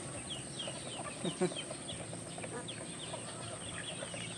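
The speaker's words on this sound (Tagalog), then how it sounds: "ibang manok dyan, hindi akin lahat" Chickens clucking at a backyard poultry and duck keeper's yard in the morning, soft scattered clucks and calls at a distance, faint overall, with a steady high hiss throughout.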